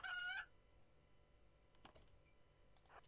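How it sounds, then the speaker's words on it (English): Chickens in the video game Rimworld: one short loud clucking burst at the start, then sparse faint clicks and small squawks over quiet background. "Don't be attacked by chickens!"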